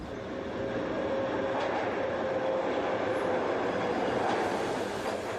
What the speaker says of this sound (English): Some subway cars have rubber wheels, but mine are steel.